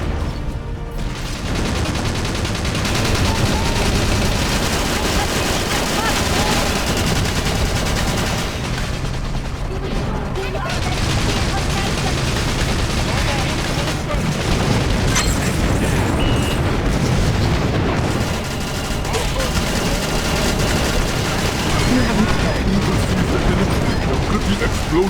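A dense, loud barrage of rapid gunfire and booming explosions from Battalion Wars on GameCube runs nonstop, with voices faintly mixed into the chaotic battle noise.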